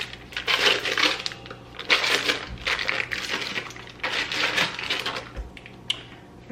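A package of softened ingredient for banana pudding being torn and opened, close crinkling and rustling of wrapper in uneven bursts, with a couple of dull knocks.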